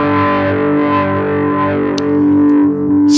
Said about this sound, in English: you go to program 4, and you get to unlock the wah filter mode.